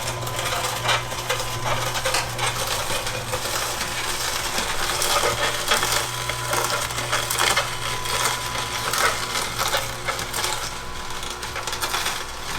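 An electric juicer pressing whole celery stalks with their leaves, a continuous loud grinding and crunching drone with a steady motor hum that runs unbroken and close, with no voices.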